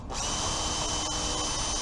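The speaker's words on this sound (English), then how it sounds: "We're going to pre-drill." A power drill whines steadily at high speed while pre-drilling a pilot hole into the plastic of a recycled 5-gallon bucket, one continuous close, loud run with no voices.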